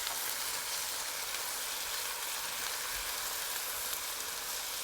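About 2.5 pounds of ground beef with diced onions sizzling in a pan, a steady, close, even crackle and hiss throughout with no voices.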